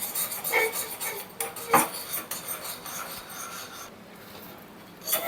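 Spoon stirring a simmering beetroot lip balm mixture in a pan on low heat, a continuous close rasping scrape with rhythmic strokes and a few sharper knocks, no talking.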